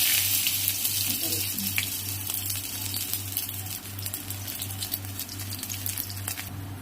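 Garlic sizzles in hot oil with dried red chilies in a wok, a continuous close crackling fry over a low steady hum, with brief soft talk early on.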